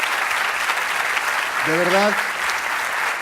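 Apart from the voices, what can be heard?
audience applause for the panel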